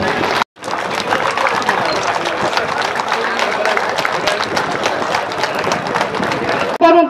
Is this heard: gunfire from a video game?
no